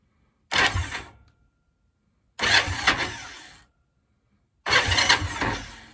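Starter motor cranks in three separate bursts of roughly a second each, loud and close, with silent pauses between them.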